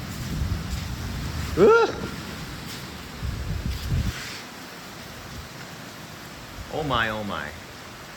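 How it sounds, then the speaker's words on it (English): Heavy torrential rain shower, a broad steady hiss running throughout at moderate level, while a man groans and exclaims over it in a couple of brief bursts. "That's some fucking killer torrential rain."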